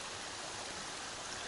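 Running water of a Smoky Mountains stream by the trail to Noland's Creek, a dense, steady hiss and rush at constant level throughout, with no talking.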